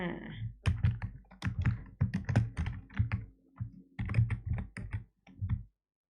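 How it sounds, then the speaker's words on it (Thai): Typing on a computer keyboard, with rapid clusters of crisp key clacks in uneven bursts separated by brief pauses, close and clear with no talking. "แล้วเราก็จะพิมพ์ข้อความก็คลิกเข้ามาตรงนี้เช่นกัน"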